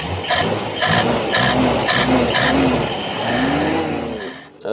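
Carburetted engine of a Toyota Corolla DX with rich-running black spark plugs, revved sharply several times in quick bursts, loud and close, each rise and fall in pitch distinct before the engine settles.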